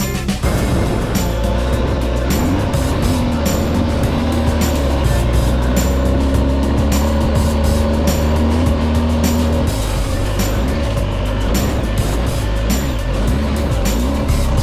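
A heavy adventure motorcycle revs and labours across seaside sand, its engine droning loudly and rising and falling in pitch as the rider pushes on, with wind noise and no voices.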